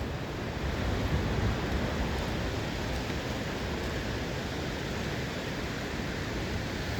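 Ocean surf rolls onto a beach on the Oregon coast near Heceta Head, a steady broad wash of waves heard close and continuous, with some wind noise mixed in.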